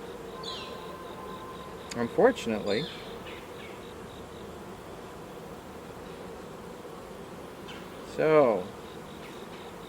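Honey bees hum and buzz around a hive frame holding the queen, a steady soft drone with a couple of brief louder passes close by; a voice speaks briefly.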